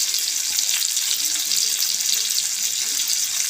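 Pieces of cut fish dropped into boiling curry gravy, giving a continuous hissing, bubbling simmer throughout, with a voice speaking faintly underneath.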